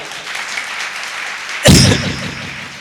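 Loud burst of clapping from an audience erupts suddenly after a stretch of quiet murmur, cheering for a Dentodoc tooth powder at a promotional gathering.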